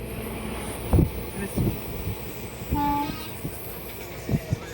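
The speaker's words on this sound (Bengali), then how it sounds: "আমাদের ট্রেন উত্তরপ্রদেশের যমুনা নদীর ব্রিজ ক্রস করছে" A train rumbles steadily across the Yamuna river bridge in Uttar Pradesh, with irregular clanks and thumps, and a brief tonal hum rises midway through the clip.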